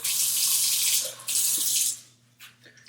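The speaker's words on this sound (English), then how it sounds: "Get a little water, swish it around in here." Water runs and sloshes around in a kitchen bowl while making marinara sauce, in two loud bursts close to the microphone. The second burst stops abruptly, leaving faint drips and quiet.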